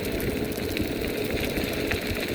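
A Vivi 26-inch 350W electric bike motor runs at full throttle, giving a steady, close whirring hum with faint rattles and road rumble throughout.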